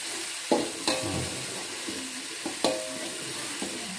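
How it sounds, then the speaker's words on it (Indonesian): Nasi goreng fried rice stirred in a hot frying pan, a soft continuous sizzle broken by several sharp scrapes and taps of the spatula against the pan at uneven intervals. "Kita aduk, teman-teman. Kita aduk."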